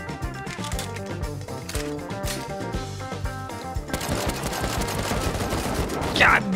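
Rapid automatic AK rifle fire in the video game Rust, dense repeated cracks running throughout and growing noisier in the second half, mixed with other game sounds.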